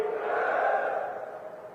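A large rally crowd in Mahendragarh, gathered for Amit Shah, roars a loud, sustained collective chant, many voices blending into one broad swelling shout that fades slightly at the end.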